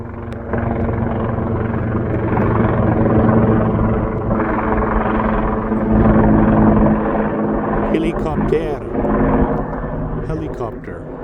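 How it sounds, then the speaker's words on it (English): A helicopter approaching and passing overhead at a snowy log cabin building site, a steady loud rotor rumble lasting throughout, with brief voices near the end. "Sounds like a helicopter's coming."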